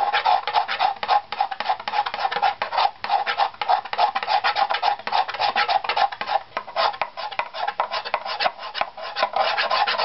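Steady rhythmic scraping across a wooden violin back plate during plate tuning, close and continuous rasping strokes with no pauses or talk.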